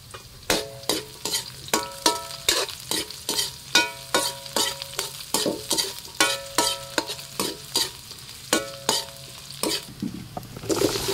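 Onions fry and sizzle in a pan while a utensil stirs them in quick rhythmic scrapes, steady and close, with no voices.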